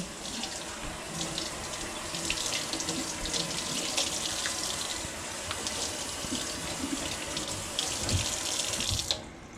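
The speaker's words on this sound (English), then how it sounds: "the first thing that needs to be done with it is to rinse it all off" Running tap water pours steadily into a sink as a piece of Costco salmon is rinsed beneath it, a continuous close splashing rush that stops abruptly at the end.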